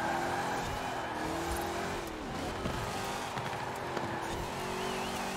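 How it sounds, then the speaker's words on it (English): A rental race car in Forza Horizon 4 roars continuously at high revs, its engine crackling as the tires squeal through a turn, loud and unbroken with no talking. "Listen to the crackles of the engine."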